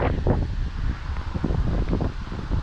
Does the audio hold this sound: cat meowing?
no